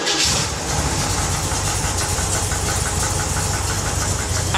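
A car engine fitted with an MSD ignition control system, running steadily at a close, loud, rough idle with an even rumble and a faint rapid ticking throughout, no voices.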